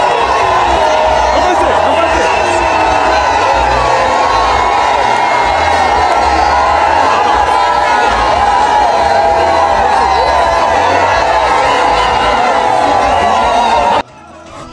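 A large crowd of party supporters cheers and shouts nonstop on an esplanade as first lady Denise Nyakeru Tshisekedi arrives, a dense continuous roar of voices and whoops that cuts off abruptly near the end.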